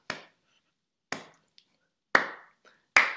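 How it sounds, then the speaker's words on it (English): Sparse single claps from an online audience clapping along to swing music, five isolated sharp hits spaced about a second apart, close and clean with silence between. "All right, everyone, let's clap."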